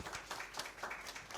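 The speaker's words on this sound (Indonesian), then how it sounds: "Tepuk tangan ya teman-teman" Applause from the audience at a school competition regional final round in Indonesia, a brief burst of dense clapping heard fairly close.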